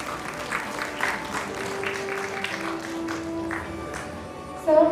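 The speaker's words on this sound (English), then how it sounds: "Round of applause, everyone." Audience at an entrepreneurship summit award ceremony applauds steadily, a room full of clapping with some background murmur and a brief louder bump near the end.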